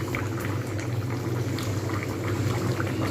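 Capsicum chicken curry with potatoes boiling in a pot, a steady close bubbling and gurgling that continues evenly throughout without interruption.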